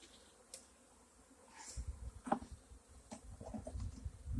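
Honey bees buzz close by as they are shaken off hive frames during work on small nucleus colonies, a thin insect drone with scattered knocks and rustling handling noises.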